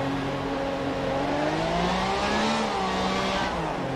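Loud, continuous car engine from an Xbox One racing game played on a Thrustmaster Ferrari 458 Spider wheel, its pitch sweeping up and down through revs with a sustained tire squeal layered on top, no voices.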